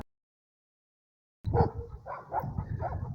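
Dogs bark outdoors, suddenly, after a second of silence, in a close, loud run of overlapping barks and yips that lasts to the end.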